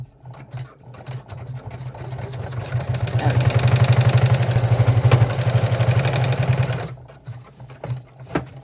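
A computerized embroidery machine stitches a purse flap rapidly with a steady mechanical buzz and rhythmic needle clatter, running several seconds before stopping; a voice speaks briefly at the end.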